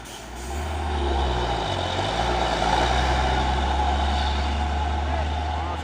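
A Hino trailer truck's engine labours uphill with a loud, steady low diesel drone that swells and holds close throughout.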